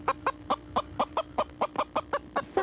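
A rooster in southwest Dallas clucks about a dozen times in a steady, quick rhythm, close and clear over a low background hum.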